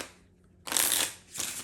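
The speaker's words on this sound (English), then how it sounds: "you can shuffle just as long as you keep that card on the bottom" A deck of playing cards is shuffled while a force card is held on the bottom for a magic trick, giving a loud riffling burst followed by a shorter second burst, close up with no talking.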